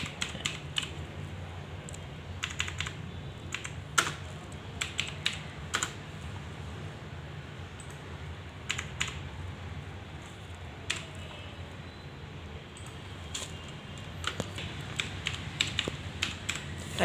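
Someone types on a computer keyboard in irregular bursts of close, quiet key clicks with short pauses between them, over a low steady room hum and no voices.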